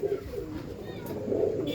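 Low, rounded cooing of pigeons, soft and close, repeating through a brief stretch with faint background noise.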